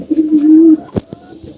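A pigeon gives a single low, drawn-out coo, followed by a couple of soft knocks and faint quieter sounds.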